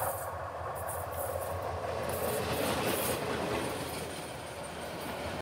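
A loaded freight container train runs on the Chittagong–Dhaka line near Brahmanbaria station, its wagons rolling past in a loud, steady rumble with rhythmic clatter and a faint metallic squeal, with no talking.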